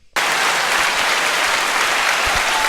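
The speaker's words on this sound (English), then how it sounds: "Let's give Terry. a round of applause." A round of applause for Terry, likely played from a soundboard: after a brief quiet start, a sudden loud, uniform burst of crowd clapping holds steady to the end.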